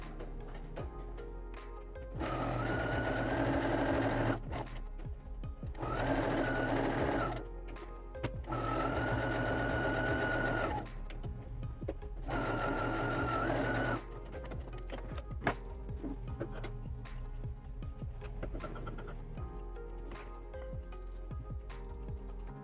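A sewing machine stitches a safety seam joining the body piece onto a baby blanket, running in four bursts of fast whirring with short pauses between them, followed by quieter handling and clicks at the end.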